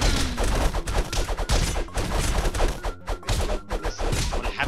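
Rapid gunfire and chaotic combat crashes from the Castle Crashers video game come as a dense, continuous barrage of loud bursts and impacts with no pauses.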